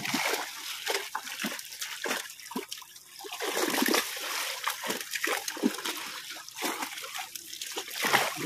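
Water splashing and dribbling in a pond as a fishing net is cast, with irregular bursts of spatter and trickle close by and people talking over it.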